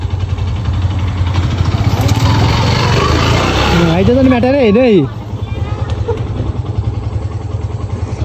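A motorcycle engine runs steadily with a low rumbling hum throughout, close by, while people talk over it partway through and the engine note continues underneath.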